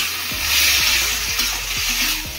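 Pasta with corn and sauce stirred and frying in a pan, a steady close sizzle with a few soft scraping stirs of the spoon against the pan, no voice.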